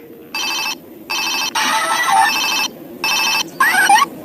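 Toy telephone ringing in four electronic bursts of warbling tones, each roughly half a second to a second long, separated by short silences, loud and close with faint background hiss.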